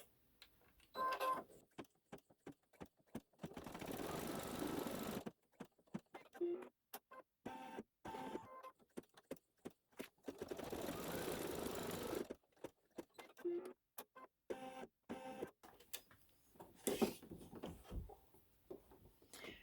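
Computerized embroidery machine stitching couch-arm placement outlines on a SweetPea haunted house quilt block, running in rapid mechanical bursts of needle chatter that stop and start repeatedly, close and fairly loud.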